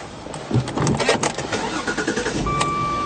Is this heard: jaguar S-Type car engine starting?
yes